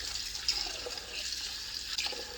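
Water running into a pot of lentils for rinsing, a faint steady splashing stream with a couple of small drips and clinks, quiet and close.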